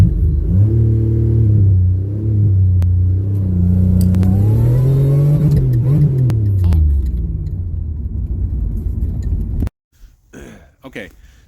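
A supercharged 3800 engine in a 1988 Fiero GT accelerates hard on a slightly uphill drag run, its note climbing through the gears with brief dips at each shift before cutting off abruptly near the end.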